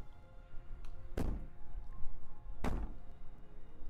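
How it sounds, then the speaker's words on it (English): Two heavy, separate thuds of someone banging on a door in the game Slay the Princess, spaced about a second and a half apart over a low, quiet background. "Bang on the door all you want"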